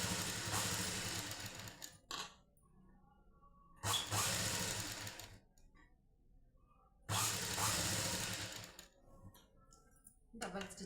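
A sewing machine stitches an extra piece of cloth onto blouse fabric in three loud, close bursts of a few seconds each, separated by quieter pauses.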